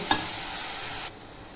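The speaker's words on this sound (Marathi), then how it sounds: "तांदूळ टाकल्यावर बघा छान असं परतून घ्यायचं फास्ट गॅसवर परतून घ्यायचं" Rice tossed and stir-fried over a high gas flame with mint and vegetables for moong dal khichdi, giving a brief loud scrape and then a steady sizzle that drops away sharply near the end.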